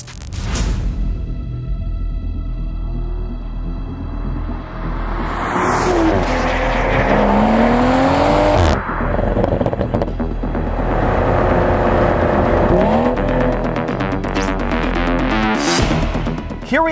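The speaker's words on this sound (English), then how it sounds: "Z4 M40i with 382 horsepower and 369 pound-feet of torque out of a 3-liter turbocharged inline-six banger." A 2023 BMW Z4 M40i with a 3-liter turbocharged inline-six, 382 horsepower, accelerates hard, the engine note rising loud and close through several gear pulls with brief shift breaks and a continuous roar.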